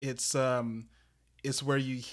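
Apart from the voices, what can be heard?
No everyday noise stands out behind the speech.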